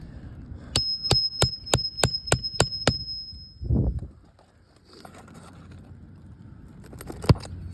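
Eight quick, evenly spaced metallic hammer strikes on roof shingle nails ring out close by, followed by a dull thud, a quiet pause, then one final sharp hit.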